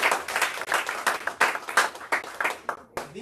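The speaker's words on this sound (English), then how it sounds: "let's give One Stop Roofing a big round of applause, please" A modest group claps for a roofing company partner, individual hand claps clearly separate and irregular, close and fairly loud, thinning out toward a brief stop at the end.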